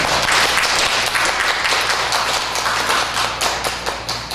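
Church congregation clapping during a Korean worship service, a moderate, steady patter of many hands continuing throughout and tapering slightly near the end.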